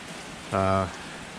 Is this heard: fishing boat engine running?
no